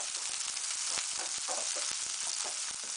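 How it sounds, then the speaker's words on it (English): Potatoes sauté in a hot pan with a dense, steady sizzle and crackle that stays close and even throughout, with no talking. "We're going to saute them for about 1 minute."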